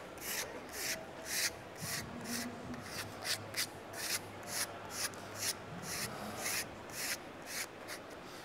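Soft rhythmic rubbing and scraping as a small wallpaper applicator pushes a paper seam together, a steady series of strokes close by and fairly quiet.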